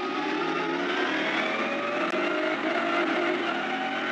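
GT300-class race cars at Fuji Speedway, including a BMW M6 GT3 and a Subaru BRZ, roar continuously at close range in a dense wall of engine noise as the pack gets away from the start.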